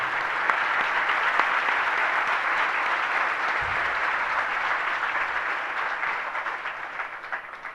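Sustained applause from an audience at a Guru Purnima festival gathering, a dense steady clatter of many hands clapping that carries on for several seconds and eases slightly toward the end.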